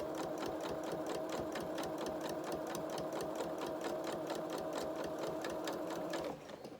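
A sewing machine stitches steadily at close range on a Luna Lapin Hamish the Highlander body and limbs, with a fast even needle rhythm that runs until it stops near the end.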